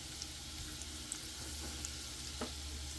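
Butter melting in a hot pan before a beef steak goes in gives a steady close-up sizzle and crackle, broad and continuous, with a few small pops and clicks and no talking.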